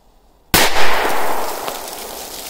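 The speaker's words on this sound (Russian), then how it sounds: "И посмотрим мега мощный взрыв." A powerful firecracker explodes in snow with one sudden loud bang after a quiet lead-in, followed by a long, fading echoing rumble outdoors.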